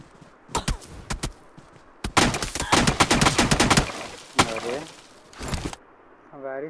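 Rapid bursts of gunfire in a competitive shooter video game crack out in uneven volleys, with sharp single shots and short automatic strings, while players talk over the action.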